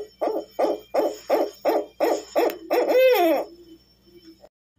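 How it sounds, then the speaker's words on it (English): An owl hoots about eight times in a steady, evenly spaced series, ending in a wavering trill, clear and fairly close with no talking. ""Hoo, hoo," said an owl."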